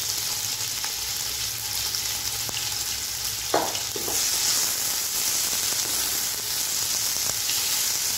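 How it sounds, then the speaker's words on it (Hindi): Chopped onions frying in a cup of oil for beef biryani masala, a steady close hiss with one brief spoon scrape partway through. "अब मैं इसमें शामिल करूँगी कटे हुए प्याज डालने के बाद आपने इसको लाइट ब्राउन सा भून लेना है।"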